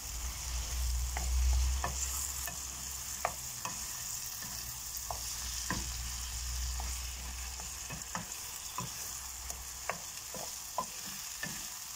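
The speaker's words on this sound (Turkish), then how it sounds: "Domatesli patlıcanların üzerine boşaltıyorum. Güzelce karıştırıyorum." Fried eggplant and tomatoes sizzling in a pan while being stirred, with a steady frying hiss and frequent short scraping and clacking strokes of the utensil, close and clear with no voices.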